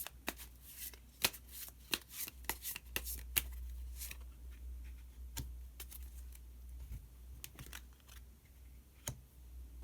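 Tarot cards being shuffled and drawn by hand, a string of soft, sharp riffling flicks and taps, close and quiet, scattered irregularly over a low steady hum.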